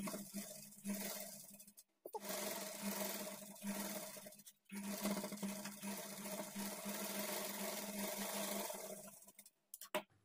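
A domestic sewing machine runs in steady stretches, stitching the edge of a waistband on a lined blouse. It hums loudly and continuously, with brief stops near two, four and a half, and ten seconds. No voices are heard.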